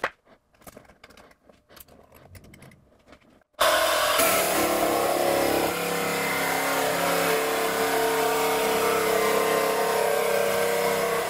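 A saw cuts through wood for a bomber seat, starting after a few seconds of scattered quiet knocks and then running as a loud, steady, close rasping stroke that continues to the end.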